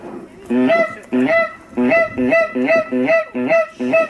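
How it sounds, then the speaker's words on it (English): Loud, repeated honking from several wild geese close by during wildfowling, a steady series of harsh calls in quick succession with no talking. "the geese are coming"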